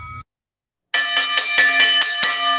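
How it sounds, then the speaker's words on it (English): A boxing ring bell clangs in a rapid series of about seven loud metallic strikes after a brief silence, each ring overlapping the last, with no talk over it. "That's the last bell, folks."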